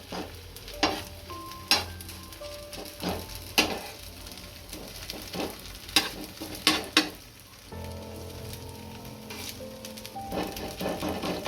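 Potato lachcha pudla, a shredded-potato pancake, frying in a little oil over low heat, with a soft continuous sizzle broken by sharp spatula scrapes and taps against the pan.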